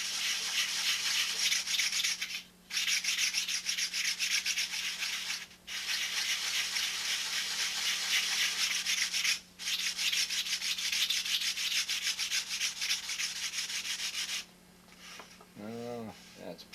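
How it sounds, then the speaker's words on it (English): Sandpaper rubbed back and forth across ribs in long, loud, even strokes separated by short pauses, ending with a brief voice. "You get used to hearing that sound of running a sandpaper across the ribs."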